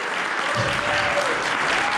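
An audience at a church anniversary gathering breaks into dense, continuous clapping that stays at an even level for two seconds.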